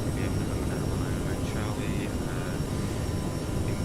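Jet engines of an Aerosoft CRJ regional jet in Microsoft Flight Simulator spooling up for climb, a steady, dense roar with a high whine on top, heard continuously under faint radio-style voices.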